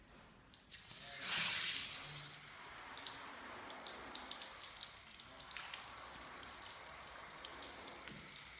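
A spray of water hits a motorcycle's plastic fairing in a loud burst at first, then settles into a fainter ongoing splash and drip; no talking.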